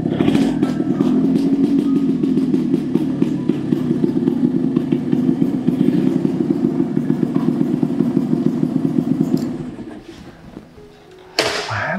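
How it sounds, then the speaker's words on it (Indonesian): A motorcycle idles and putters nearby in a steady, continuous rumble for several seconds before the engine cuts off, leaving a brief quieter stretch and a sharp noise at the end. "Kayaknya motor bos udah datang deh."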